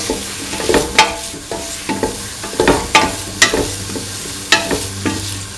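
A spoon scrapes and knocks rhythmically against a pan while green chili is mixed into a tofu, potato and coconut milk stew, roughly one stroke per second over a soft sizzle, with no talking.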